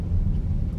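Steady low rumble of a car driving on the road during a Memorial Day weekend trip to Hot Springs, Arkansas, heard from inside as a constant engine and road drone with no talking.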